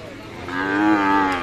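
One cow gives a single loud, drawn-out moo, close by, rising and then fading over about a second, with quiet background before it.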